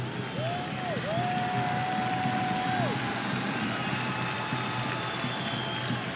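Stadium crowd noise at a Nashville SC versus FC Cincinnati soccer match, a steady loud roar of fans throughout with a rising whistle-like tone early on.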